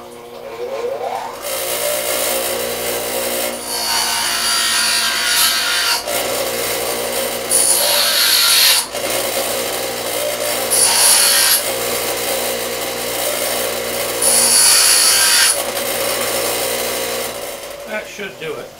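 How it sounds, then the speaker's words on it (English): A bench grinder grinds down a small cast foundry boss on an Evinrude outboard motor part, a steady harsh rasping whir with brighter surges as the metal is pressed against the wheel, close and continuous. "I'm going to go over to my bench grinder and just grind that down a little bit."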